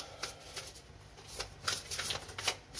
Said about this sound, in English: Just got to get these properly shuffled before I read for you guys.